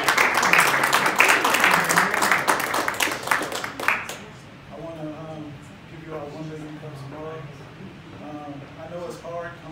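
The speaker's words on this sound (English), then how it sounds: "Let's give Tim a round of applause." An audience claps for a presenter at a 1 Million Cups Fairfax County startup pitch gathering. Brisk applause fills the first four seconds and then stops abruptly, and a voice starts speaking.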